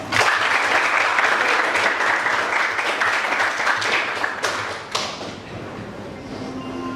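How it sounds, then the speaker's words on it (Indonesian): Classroom students clap together for several seconds in an Islamic studies lesson, loud at first, then a few sharp claps and thumps as the applause dies away to quiet room noise. "tepuk tangan kita semua"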